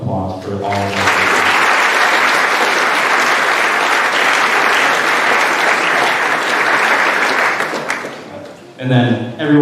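Sustained applause for nursing staff at an athletic awards night, loud and steady for several seconds before fading, with a voice speaking briefly at the start and again at the end.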